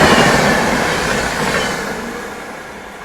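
Kanpur Shatabdi train overtaking the Patna Amrit Bharat Express, heard as a loud, close rush of rolling wheels and broadband roar that slowly fades, with no voices.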